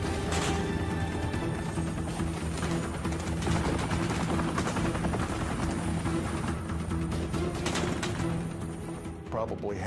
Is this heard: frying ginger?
no